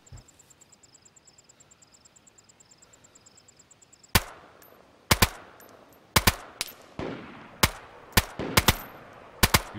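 Gunfire in the DayZ video game: a steady soft ticking gives way to about eight loud, sharp shots spaced irregularly, each ringing out with a short tail.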